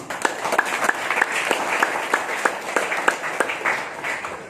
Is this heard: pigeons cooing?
no